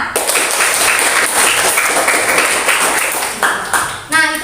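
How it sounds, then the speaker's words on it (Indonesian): Classroom applause for a student named Aan, a burst of clapping from a group of students, fairly close and loud, tapering near the end with a brief voice. "Iya, kita kasih tepuk tangan untuk Aan."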